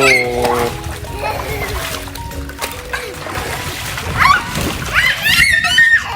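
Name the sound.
children splashing water in an inflatable pool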